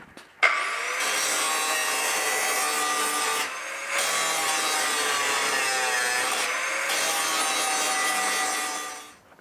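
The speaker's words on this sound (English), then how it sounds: "once I grind it down, it'll be nice and smooth" A power tool grinds down body filler on a Classic Mini scuttle panel, a loud, close, continuous abrasive whine broken by two brief pauses before it winds down.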